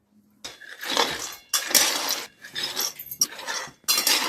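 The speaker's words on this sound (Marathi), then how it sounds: "असं शेंगदाण्याला सारखं हलवत राहायचं जेणेकरून आपले शेंगदाणे खाली करपणार नाहीत." Peanuts stirred in a dry pan while roasting, with bursts of rattling, scraping strokes coming in uneven waves, close and fairly loud, and no talking.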